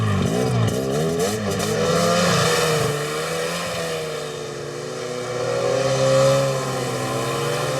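Snowmobile engine running steadily after a pull start, loud and close, with a wavering revving drone that dips and swells but shows no distinct pull or catch, and no talking.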